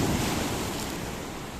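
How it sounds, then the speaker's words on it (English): Rough sea surf on the Paphos coast in Cyprus, a loud, continuous roar of surging waves mixed with gusty wind noise on the microphone. "the sea is getting very, very angry when it sees us"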